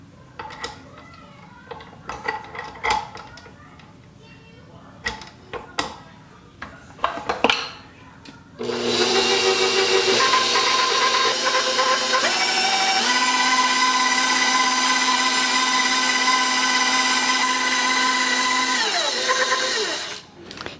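Bowls and utensils clink briefly before an electric mixer starts up and runs as a loud, steady whir, blending sugar into cookie dough for ocean-water cookies.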